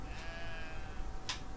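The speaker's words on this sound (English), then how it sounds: "Little Thatcher, he doesn't give a toss that I'm nicking his sheep." Sheep bleating in a farmyard video game: one short, fairly loud bleat rises over a steady background hum near the end.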